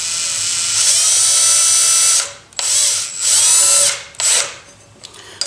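A power tool spins a nut during brake rotor removal and installation: a steady whirring run for about two seconds, then three shorter whining bursts with brief gaps, loud and close.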